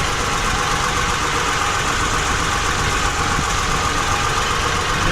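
A tractor engine runs continuously at a steady idle, loud and close, with a constant rumbling drone and no voices.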